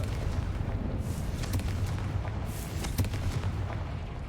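Confringo fire spell blasts in the video game Hogwarts Legacy, heavy low rumbling booms with several sharp bursts over a constant roaring game-combat background.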